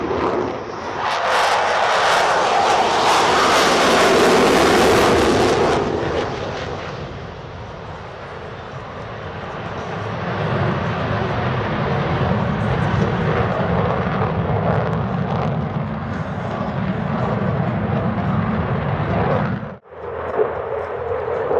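A French Navy aircraft makes a slow low pass at an air show at La Ferté-Alais, landing gear and flaps down and lights on. Its loud engine roar builds, peaks and trails off into a sustained drone.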